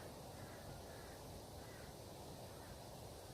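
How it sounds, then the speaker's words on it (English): Crows caw far off outdoors, faint repeated calls barely rising above a steady wash of wind and ambient noise. "I can hear crows off at the distance."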